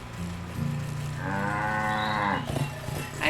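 A cow in a video game moos once, a long drawn-out low bellow that swells and fades over about two seconds, clear and close with no talking over it.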